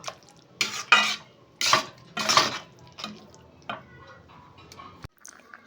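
A spoon scrapes and stirs thick carrot halwa (gajar ka halwa), with cardamom powder being mixed in, in a metal pan in several bursts of clinking and scraping, close by, with no talking.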